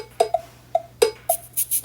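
Cowbell in an indie dance track, sounding as short bright metallic hits in a quick syncopated pattern, fairly soft over a faint low hum.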